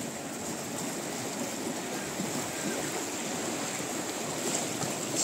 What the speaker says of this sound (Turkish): Su öyle güzel akıyor ki.